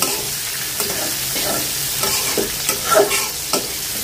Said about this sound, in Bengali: পেঁয়াজের সাথে টমেটোটা একটু ভাজবো আর কি, নরম হয়ে আসছে